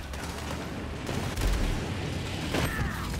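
Rapid gunfire from a Borderlands 3 battle, with dense overlapping bursts and heavier booming impacts that come loud and close.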